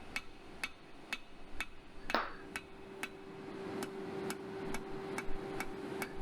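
A steel workpiece is hammered into a chisel at a blacksmith forge: evenly spaced metallic hammer strikes ring out about twice a second, with one louder clanging hit partway through over a low steady workshop hum.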